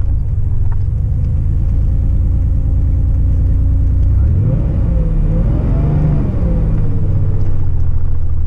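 An air-cooled Porsche 911 SC engine while driving, a loud, close, steady low rumble that rises and falls as the car accelerates through the gears mid-clip.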